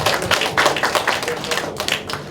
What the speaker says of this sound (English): A round of applause to our first speaker